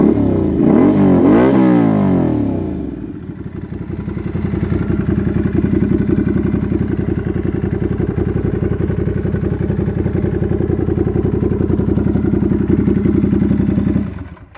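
A Ducati Scrambler motorcycle revving while being ridden, a loud close engine that climbs and falls in pitch during the first few seconds, then settles into a steady throbbing drone until it cuts off at the end.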